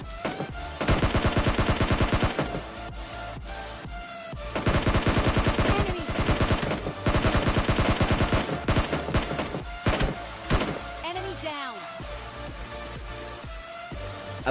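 Gunfire in the mobile shooter PUBG Mobile Lite, sustained bursts of automatic fire coming from several directions, loud and close, separated by brief lulls and scattered single shots.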